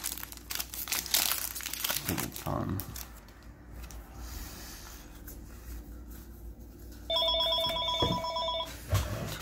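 Telephone rings once in a short electronic burst near the end, over rustling and crinkling of card wrappers while someone talks through much of the scene.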